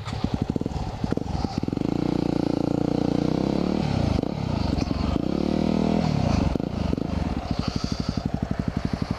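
Motorcycle engine revving and throttling continuously as the bike rides over a dirt road, loud and close, with a steady roar broken by brief dips and a rapid rhythmic pulsing near the end.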